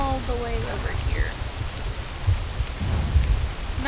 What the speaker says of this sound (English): So as you can see, it's raining all